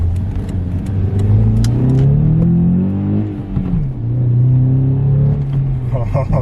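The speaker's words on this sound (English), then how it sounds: "First time with the intake delete, what does it sound like? That sounds good. That sounds way louder." A Honda Accord CL9 engine with its intake resonator deleted revs up and down in several rising and falling sweeps, loud and close, with a deep steady rumble underneath.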